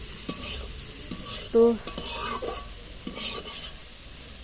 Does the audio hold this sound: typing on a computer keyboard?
no